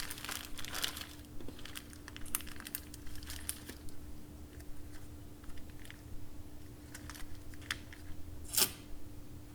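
Gallon plastic bag crinkling over a microgreen grow kit tray, with repeated irregular crackles and rustles, close and moderately loud, a sharper crinkle near the end; no talk.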